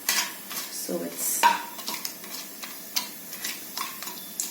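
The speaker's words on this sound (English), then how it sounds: "Just give it a stir" Cumin, cinnamon sticks and saffron stirred in a pan over a low to medium flame, a few sharp metallic clinks and scrapes of a spoon against the pan, close, with a brief voice over them.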